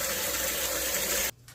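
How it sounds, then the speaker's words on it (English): A tap runs at full stream after a water heater tank has been refilled, a loud, steady gush of water that stops abruptly near the end, with no talking. "So it says to let it run for 3 minutes once it's got this full stream to make sure that the water tank is full again."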